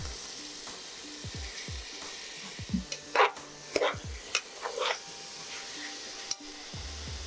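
Paneer cubes fry in a pan for paneer pulao cooked in coconut milk, giving a steady low sizzle with sharp clinks and scrapes of a spoon stirring at close range.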